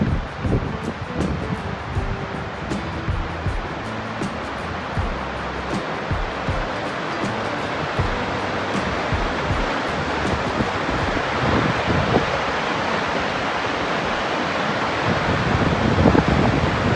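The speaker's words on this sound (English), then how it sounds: "Sick waterfall over here." A waterfall on a hiking trail in Torres del Paine, Patagonia, gives a steady broadband rush of falling water, with wind noise buffeting the microphone and no talking.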